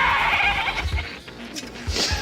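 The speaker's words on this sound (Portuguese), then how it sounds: "animais também fizeram esse papel. Cabras muito falantes." Goats bleat on a Marvel film set, loud and close, in a run of wavering, nasal cries over rustling noise. One cry rises near the end.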